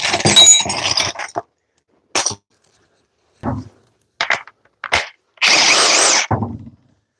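A high torque impact wrench fires in loud, close bursts of rapid rattling hammering, separated by silent pauses, with no voices.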